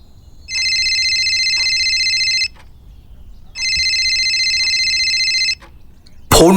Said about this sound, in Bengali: ফোনটা দুবার রিং হতেই